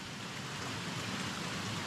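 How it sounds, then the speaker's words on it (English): Rain falls outdoors in the woods during a storm, a dense, even hiss of steady downpour with no voices. "It is raining out here."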